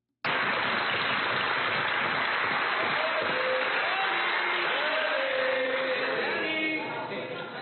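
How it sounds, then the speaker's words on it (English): Liberal MPs applauding in the House of Commons: a dense, roaring wash of many hands clapping that starts suddenly and holds steady, with faint voices calling out beneath it near the end. "Look at all the Liberals jumping up and clapping."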